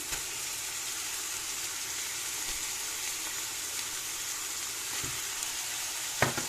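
Onions sizzle steadily as they fry in a pan for a spicy potato and minced meat tray bake, giving a constant close hiss with a few faint clicks and one sharper pop near the end.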